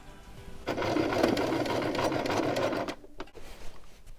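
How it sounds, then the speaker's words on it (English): A sewing machine stitches a quilt top with a fresh needle and longer stitch length, giving a steady, fairly quiet mechanical whirring run of about two seconds that stops, followed by a few faint clicks. "And I start sewing from the outside of my quilt top."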